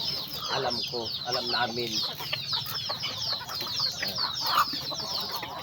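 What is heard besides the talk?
chickens and chicks clucking while being fed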